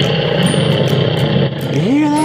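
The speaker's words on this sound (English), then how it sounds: "Ooh, a jet passing overhead." A jet aircraft passing overhead, played as an exhibit sound at the EAA Museum, comes through as a loud, close, droning engine roar whose pitch sweeps upward near the end.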